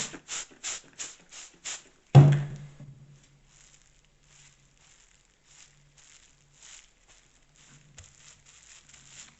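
A handful of quick, hissing bursts from a spray bottle wetting wool for felting in a steady rhythm, followed by a dull thud and faint soft rustling.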